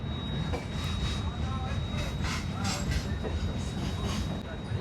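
A Bengaluru–Howrah AC superfast express runs on the rails with a continuous rumbling roar and rattle from onboard. A voice speaks faintly underneath.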